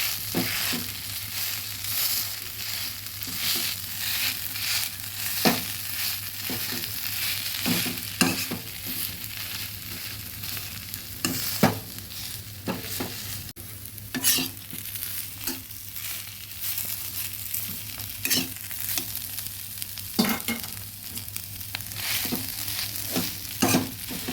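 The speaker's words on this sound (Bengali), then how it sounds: "ভালোভাবে মিশিয়ে একটু ভেজে নিলাম রোলের পুরটা প্রায় রেডি হয়ে গেছে" Pumpkin leaf roll filling is stirred and fried in a pan, a steady sizzle broken by frequent scraping and clacking strokes of the spoon throughout, close and moderately loud.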